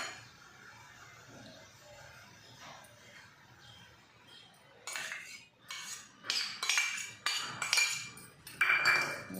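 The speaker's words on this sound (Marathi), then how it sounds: "हिरवी मिरची पण टाकून द्या आणि त्याला तुम्ही चमच्याने मिक्स करा।" A spoon stirs beetroot salad with yogurt and green chili in a bowl, a run of close, bright clinks and scrapes against the dish that grows louder and more frequent in the second half, after a quieter start.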